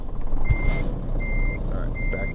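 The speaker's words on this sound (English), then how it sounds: "Back the truck up a little bit." Repeated electronic reversing beeps from a truck in Euro Truck Simulator 2, three evenly spaced tones sounding clearly over a steady low engine rumble.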